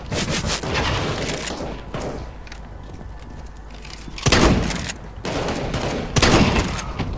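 Bursts of gunfire in Counter-Strike: Global Offensive, loud sharp volleys of rapid shots that stop for stretches and then come back, with a heavier burst near the end.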